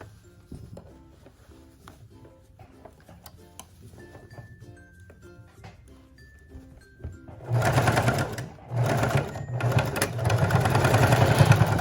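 Sewing machine stitching a mini dress, first a soft low whir with faint ticking, then louder bursts of fast stitching toward the end, close and without voices.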